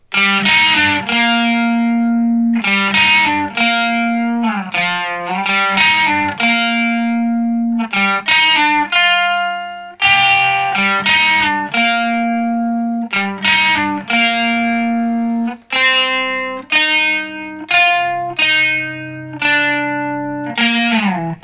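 A distorted electric guitar plays a sustained, ringing lead melody over a steady backing, loud and continuous with rhythmic note changes throughout.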